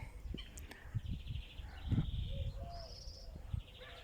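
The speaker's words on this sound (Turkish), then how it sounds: "Sadece kuş sesleri." Faint birds chirp and sing in the distance, a few scattered calls over quiet outdoor background with soft rustling thumps nearby, in a quiet park at Sandıklı Hüdai hot springs.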